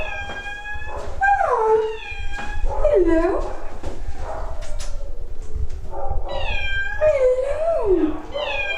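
An 8-year-old cat named Tiger at a cattery awaiting adoption gives several rising and falling meows, close and clear, while someone talks softly over and between them.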